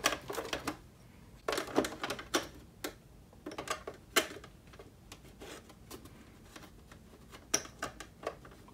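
Plastic pen clips snapping together in a run of sharp, close clicks and taps, some in quick clusters and others spaced apart, with no talking.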